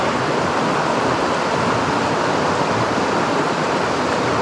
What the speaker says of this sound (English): But a nice little waterfall.